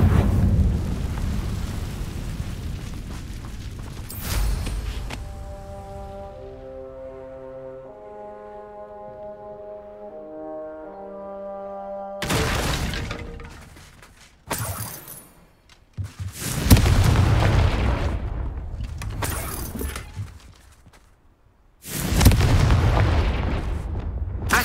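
Confringo spell blasts in the video game Hogwarts Legacy go off as several loud booming bursts, separated by a quieter stretch of tonal music, each impact heavy and close.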